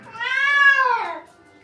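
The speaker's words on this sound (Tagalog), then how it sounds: "Galit si ano kasi pinag na amoy ng ibang pusa." An angry cat, upset at the smell of another cat, lets out one drawn-out, rising then falling meow of about a second, loud and close, with nothing else around it.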